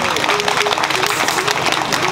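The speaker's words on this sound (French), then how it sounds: "Est-ce qu'on peut applaudir," A crowd applauds at the inauguration of a motorcycle shop in Cinkassé, with loud, dense clapping that continues under overlapping chatter and voices.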